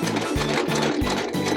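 A sewing machine runs a straight stitch along the pinned edge of a hand towel, sounding as steady bursts of motor whir that start and stop in an even rhythm, close up with no voices.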